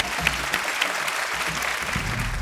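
A comedy show audience claps in a steady, dense round of applause, with scattered louder claps standing out from the crowd.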